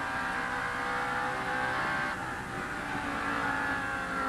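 NASCAR stock cars race at Bristol in 1989, a dense, continuous roar of several engines droning together at steady volume, with a slight swell as cars pass.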